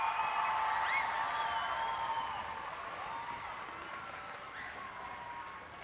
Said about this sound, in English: So can we give them a huge round of applause?